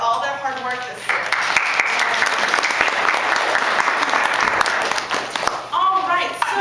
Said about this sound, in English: I want to just give them a round of applause for all their hard work this year.